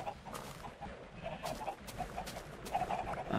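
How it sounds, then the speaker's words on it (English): Chickens in Minecraft make soft, repeated clucks. The calls are faint and close together, over a quiet background. "I've been able to produce quite a few chickens"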